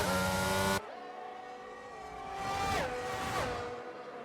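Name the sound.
race cars on track in F1 video game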